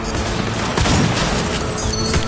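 Sustained dense gunfire from a shootout in Cyberpunk 2077, loud continuous bursts and booms filling the scene with no pauses.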